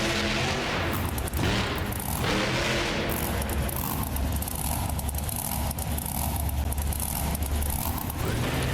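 Roaring engine of a Dodge monster truck in the BeamNG Drive game's Monster Jam racing, loud and continuous with heavy revving surges and impact booms, no voices.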